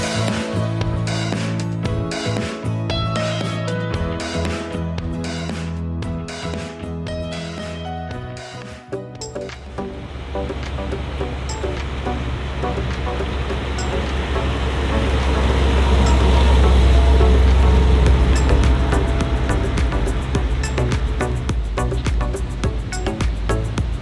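A 1959 Cadillac Eldorado Biarritz convertible is on the move. A low engine and road rumble swells and recedes over steady traffic-like noise, with a stretch of clicking and tapping at the start before the drive settles in.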